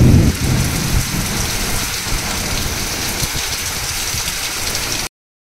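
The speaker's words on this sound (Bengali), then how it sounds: "অবশেষে বৃষ্টি পড়লো" A Kalbaishakhi storm brings heavy rain pattering hard on surfaces, with a low thunder rumble at the start, loud and continuous and then cut off abruptly.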